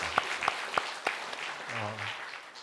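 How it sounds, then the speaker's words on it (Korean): A church congregation at a Sunday worship service claps together, the loud clap bursts thinning into a soft, fairly distant patter. "하나님께 영광의 박수를 드립니다"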